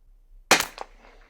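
A single sharp report from a Bergara BMR .22 Long Rifle, close and abrupt with a short fading tail, isolated in a quiet outdoor setting.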